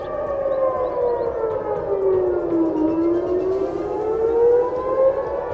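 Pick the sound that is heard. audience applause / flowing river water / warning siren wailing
warning siren wailing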